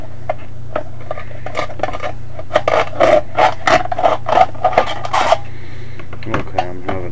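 A knife scores along a Rainbow Pop aluminium can as it is shaped into an alcohol stove: a close run of scratchy metallic scrapes and small clicks, clustered in the middle and thinning toward the end.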